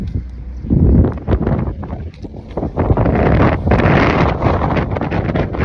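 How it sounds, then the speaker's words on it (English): Wind buffets the microphone in a loud, continuous low rumble that swells and gusts throughout. "it's a little windy today"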